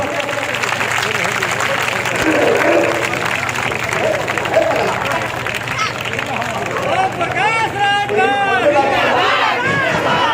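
Crowd at an outdoor public political meeting in Khetabpur Kasimabad clapping loudly in sustained applause, mixed with cheering and crowd babble throughout, with a harmonic horn or whistle-like sound rising near the end.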